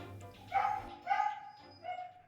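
A Labrador confined in a kennel at an airport gives three drawn-out, whining barks at a steady pace. The barks are fairly close and sound alone, with no talk.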